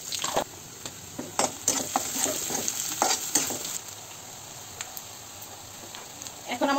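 Onions frying in hot oil with bay leaves and garam masala while cooking duck curry, a steady sizzle broken by sharp scraping stirs of a spatula against the pan, close and fairly loud.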